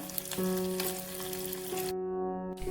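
Cashews, almonds, cloves and fresh coconut pieces fry in ghee for a wheat kheer offering, a close, steady crackling sizzle with light stirring and a steady hum underneath.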